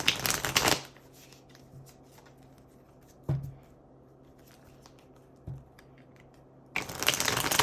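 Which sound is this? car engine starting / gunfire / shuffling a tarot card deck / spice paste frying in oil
shuffling a tarot card deck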